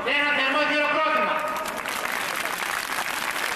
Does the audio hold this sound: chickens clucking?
no